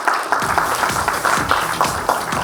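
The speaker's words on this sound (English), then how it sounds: "A round of applause for all our partners, please." An audience applauds the event partners at a conference's closing remarks and vote of thanks: a loud, steady burst of many hands clapping, with no voices over it.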